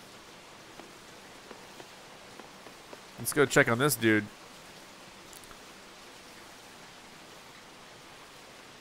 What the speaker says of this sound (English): Is he controlling the rain with his tears?